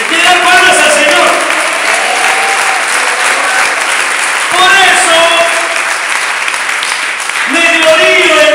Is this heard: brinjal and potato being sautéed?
no